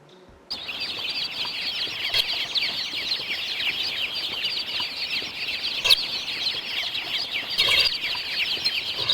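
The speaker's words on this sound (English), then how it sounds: "Chick sorting has you sorting chickens by boys," Chicks in a chick sorting minigame from a quirky video game peep and cluck continuously, a busy, bright chorus of chirping that starts abruptly and runs steadily throughout with a few sharp clicks.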